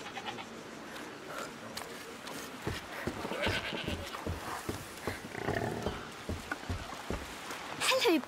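Pigs grunting and squealing in the video game A Plague Tale Requiem, irregular close animal calls over a low ambient bed, with a sharper squeal near the end.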